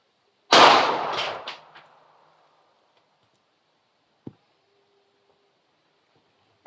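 One loud, sharp 5.7x28 gunshot with a 68 grain bullet cracks outdoors and trails off in a fading echo, followed by a few faint clicks in the quiet.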